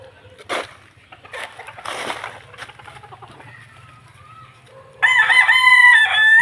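A Boston sweater stag rooster, seven months old, crows loudly and close in a backyard, with scattered clucks and bursts of chicken noise before it and a low background hum.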